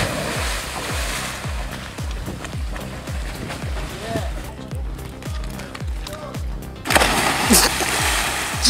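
Someone belly flops into water outdoors, a heavy splash and surge of churning water after a run of rhythmic thumping footsteps, with people talking and shouting over it.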